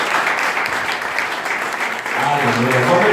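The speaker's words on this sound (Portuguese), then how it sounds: "Você pode aplaudir ao Senhor, meu irmão, em nome de Jesus?" A church congregation claps together in praise during a worship service, a dense, steady burst of applause under some background voices.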